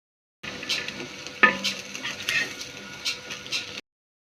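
Egg vada frying in oil in a pan as it is flipped, a steady sizzle with a few brief scraping and clinking touches, close and fairly quiet.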